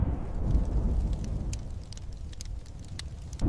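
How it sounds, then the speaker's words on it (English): Steady rain hiss and low rumbling of a rising storm, with a few faint crackles and a distant roll of thunder toward the end, heavy low-end noise throughout. "a storm was rising."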